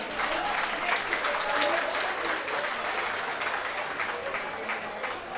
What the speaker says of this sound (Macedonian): Ајде со еден аплауз да ги поздравиме сите учесници.